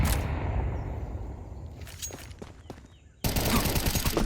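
Gunfire in a Counter-Strike style shooter during a competitive team match, a loud burst at the start and a sudden dense volley near the end, with sparse sharp reports and footstep-like ticks in between.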